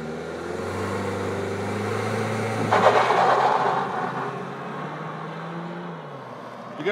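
A 2017 Mazda CX-9 launches from a standstill for a 0-60 mph run on a test track, its engine rising in a loud rev with a brief burst of wheel-spin noise, then fading as it pulls away.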